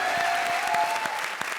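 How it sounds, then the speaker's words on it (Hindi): A studio audience on a television comedy show gives brief, fairly faint applause, a short burst of scattered clapping with a tonal note running underneath. "जोरदार तालियां हो जाए मेरे मालिक के लिए।"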